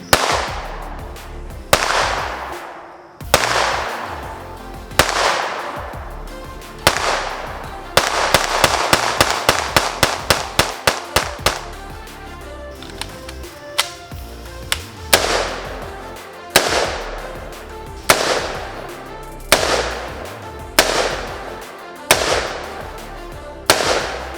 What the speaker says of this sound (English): we've been able to get 3 different guns to shoot today